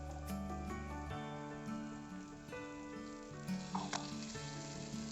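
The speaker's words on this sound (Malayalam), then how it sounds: "ഇനി നമുക്ക് ഇതിലേക്ക് തക്കാളിയുടെ പേസ്റ്റ് ചേർത്ത് കൊടുക്കാം" Fresh tomato paste, blended without water, goes into a hot pan while making restaurant-style chicken Manchurian, giving a steady close sizzle and crackle with a brief louder spatter near the end.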